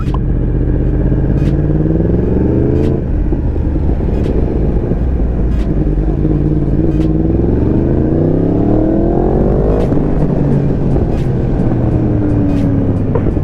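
A Yamaha R1M sport motorcycle engine revs loudly and close, its pitch sweeping up and down through repeated throttle blips with sharp clicks between rises, with no talk over it.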